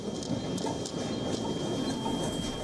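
Train rattling and shaking during the 7.6 magnitude New Year's 2024 earthquake in Japan's Noto region, a dense continuous rumble with clattering wheel noise and a thin whine throughout, close and steady.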